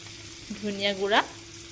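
Pork dry fry with red chili powder, dried chilies and coriander powder being stirred in a pan: a brief, close sizzle with a rising squeal of the spatula scraping through the spiced meat.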